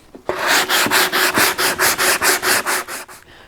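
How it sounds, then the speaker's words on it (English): Sanding an ATV body to prep for primer: a close, rhythmic rasping of about a dozen quick back-and-forth strokes, each a bright scratchy burst, with no voices. "I'm gonna start sanding and getting the body ready for primer"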